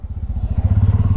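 A motorcycle engine chugs with a rapid, regular low throb, heard close up while two riders travel on the bike, the pulsing growing slightly stronger over about a second.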